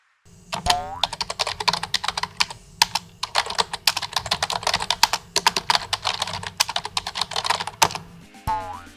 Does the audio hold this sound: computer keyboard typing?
yes